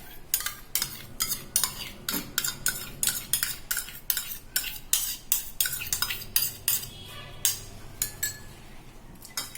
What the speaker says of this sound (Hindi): ये दही आप इस बाउल में डालिए।